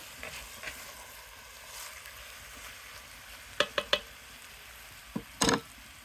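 Beef brisket ragu with juices cooks in a pot over a campfire, giving a low steady sizzle broken by several sharp clanks and scrapes of stirring, with a louder cluster near the end.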